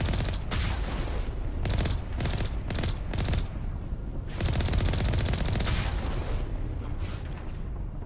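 Gunfire from the game Mass Effect rings out in rapid bursts of loud, booming shots that come in irregular volleys over a rumbling backdrop, with no speech.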